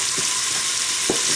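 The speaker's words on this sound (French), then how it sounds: "faire revenir un petit peu les lardons et les oignons" Bacon bits and onions fry in a pan with a steady, loud sizzle that fills the short clip, broken by a couple of soft stirring scrapes.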